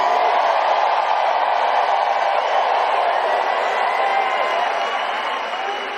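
A huge campaign rally crowd in Detroit, Michigan, cheers in a steady, dense roar of many voices that holds for several seconds before easing off slightly.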